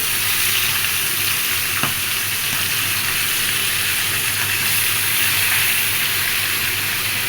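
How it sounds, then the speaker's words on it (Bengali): Fish frying in hot oil in a home kitchen, a loud continuous sizzle and crackle close up with a faint clink partway through, no talking. "এখন তেলটি গরম হয়ে গেছে, এখন আম্মু মাছটি দিয়ে দিবে।"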